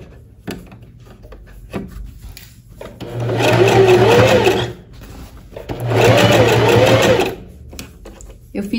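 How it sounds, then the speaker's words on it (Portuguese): Domestic sewing machine stitching a blouse facing to the blouse, right sides pinned together, running in two loud sustained bursts of even motor whir separated by a quieter pause. "E agora vou iniciar a costura."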